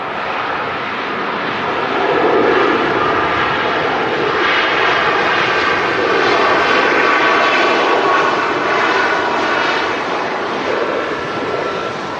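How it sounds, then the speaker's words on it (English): A Ryanair Boeing 737 Max jet airliner lands at Manchester Airport, its engine roar loud and broad, swelling and holding steady throughout with no voices. "a Ryanair Max as well, just popping into shot here,"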